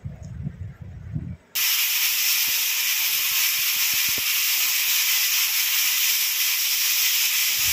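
A small pressure cooker on a gas stove bursts into a loud, steady hiss of escaping steam after a brief quieter start with light clatter, and the hiss keeps going unbroken to the end.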